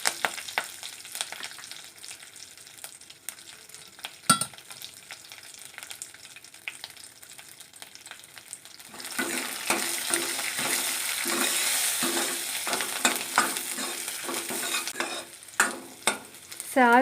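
Curry leaves and garlic sizzle in oil for a tomato dal rasam tempering, starting with quiet clinks and a sharp tap, then swelling midway into a loud close crackling fry with stirring scrapes and clatter, with no voices.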